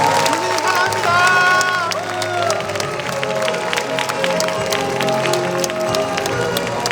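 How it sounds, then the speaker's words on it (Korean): At the 34th Daegu Social Welfare Conference, a large hall audience gives sustained applause and some cheering for a grand-prize award recipient, steady and full over background music. "박수 부탁드리겠습니다."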